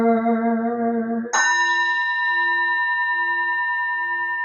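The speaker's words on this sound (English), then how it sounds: "Here is the after sound of the bell." A bell rung at a Buddhist service: a low tone fades out, then a fresh bright strike rings with clear sustained harmonics that hang on and slowly decay, alone in a quiet room.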